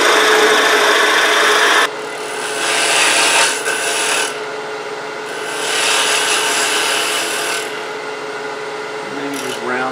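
A Forstner bit bores into a wood blank spinning on a lathe while a cup chuck for turning spheres is made, giving a steady rasping cut that swells and eases in several passes, loud and close throughout.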